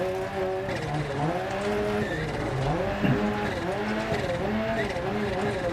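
Rally car engine revving with tyres sliding across gravel in Dirt Rally 2.0 on a New Zealand stage, steady loud engine tones rising and falling through the slide, with a voice talking over it throughout.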